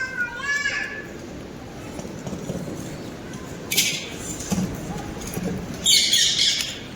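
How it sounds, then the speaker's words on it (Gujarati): Pigeons and parrots call inside Vijali Baru cave near Mahuva, Bhavnagar, with short chirps and squawks in bursts near the start and around the sixth second, while a person talks. "કબૂતર છે, પોપટ છે, ઘણાની અહીંયા આ બધું અહીંયા રહે જ છે બધા પક્ષીઓ."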